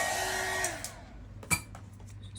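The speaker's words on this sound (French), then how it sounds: "sur votre création avec le heat gun parce que sinon vous allez le brûler." A heat gun blows hot air in a steady, close whooshing rush that softens partway through, with a brief clatter near the end and no talking.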